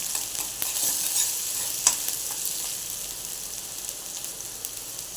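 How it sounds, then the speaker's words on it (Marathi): Chopped onion sautés in a pan for a green bean bhaji, giving a soft, even sizzle with a couple of light stirring clicks, near and without voices. "कांदा परतून घेऊया"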